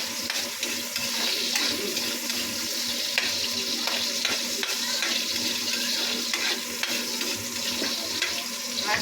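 Onions sizzle and hiss steadily in a hot pan while cooking pancit bato, with occasional stirring scrapes and no speech, close and continuous for several seconds.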